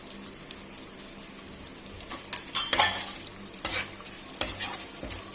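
Chana dal and moong dal fry and get stirred in a pan for broken rice upma, a soft sizzle under bursts of scraping and stirring that grow louder midway.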